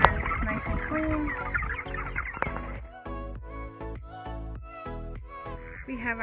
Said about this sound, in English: We have our ducks who are quacking at me.